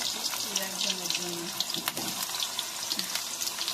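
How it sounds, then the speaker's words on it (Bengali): Potato pieces deep-frying in hot oil for a spicy red chicken curry make a constant loud, bubbling hiss, with a voice faintly underneath at times. "চলো আলু কোটাকে ভালো করে লাল লাল করে ভেজে নিই"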